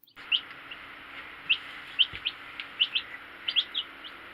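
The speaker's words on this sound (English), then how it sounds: "These are our baby chicks." Baby chicks peeping in short high chirps, scattered and irregular over a quiet background hum, with a soft knock partway through and no talking.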